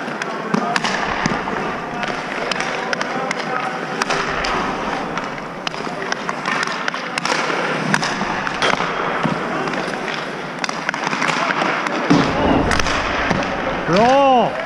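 Ice hockey pucks shot during a goalie practice session, sharp cracks and thuds of sticks and pucks striking repeatedly at irregular intervals in an echoing rink, with coaching voices and ambient arena noise throughout.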